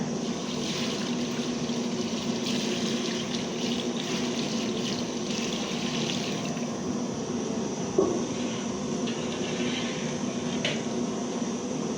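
Water poured into a pot for cooking Afghani pulao rice, a steady rushing stream running continuously and fairly quietly, with a light clink of the pot partway through.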